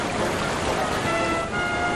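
Vast volumes of water rush into a ship's dry dock, a dense, steady roaring wash like surf that fills the whole soundscape, with a slight dip near the end and no voices.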